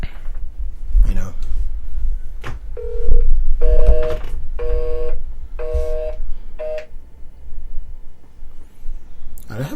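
A cell phone call: a series of dialing tones followed by repeated, evenly spaced busy-signal beeps, loud and close, with some background noise between.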